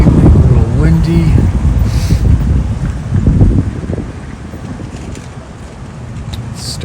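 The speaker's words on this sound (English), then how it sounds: "It's a nice evening, a little windy." Gusty wind buffets the microphone in rumbling bursts, with a voice talking underneath.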